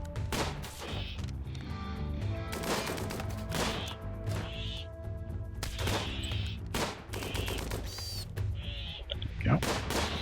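Gunshots in the video game RimWorld crack out as a series of sharp, close, irregularly spaced shots over steady game sounds and background music.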